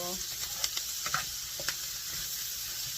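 Chicken gizzard and heart sautéing in a pan, a steady close sizzle with a few sharp spoon-stirring clicks and scrapes spread across the clip.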